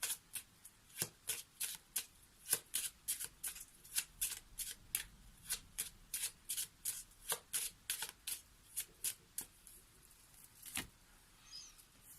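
Lenormand cards are shuffled by hand in a rapid series of close, crisp riffling bursts at a steady rhythm for about ten seconds, then slowing and fading out at the end.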